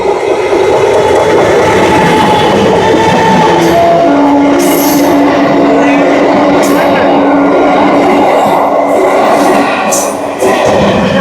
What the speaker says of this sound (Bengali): মুম্বাই মেল এখন চলে এসেছে তার 20তম stoppage Mirzapur junction railway station